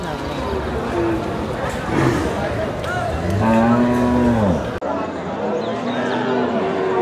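Bulls moo repeatedly in long, low, drawn-out calls at the Mirganj cattle market, over a busy crowd murmur, with people talking nearby throughout.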